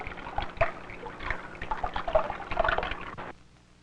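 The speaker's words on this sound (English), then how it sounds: "When water moves, you hear a splashing sound." Water moving and splashing in short irregular bursts with soft liquid trickles, fairly close and moderately loud, ending abruptly into quiet.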